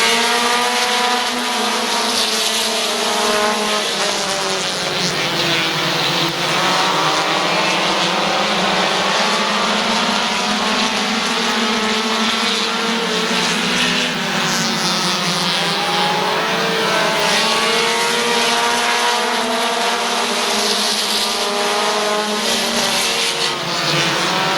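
Race cars at Midvale Speedway roaring at full throttle after a restart, a dense, continuous engine drone with pitch rising and falling as the pack circles the oval, loud and sustained throughout.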